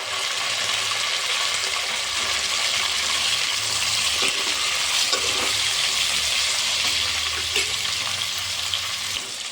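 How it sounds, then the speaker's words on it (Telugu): Tomato and potato pieces frying in a pan, a continuous dense hiss of sizzling oil with faint crackles, even and close throughout. "టమాటా ముక్కలు, ఆలు ముక్కలు మంచిగా ఫ్రై అవుతాయి"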